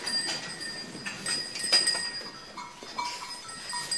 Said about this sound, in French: Il y a là 43 chèvres